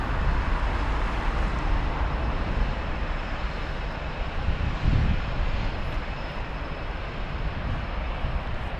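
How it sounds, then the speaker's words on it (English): A Condor Airbus A320 in retro livery at Frankfurt airport, a loud broadband engine roar holding steady throughout, with no voices. "the Condor in the retro livery"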